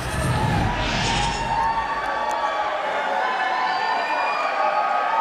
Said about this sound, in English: The crowd is showing their appreciation.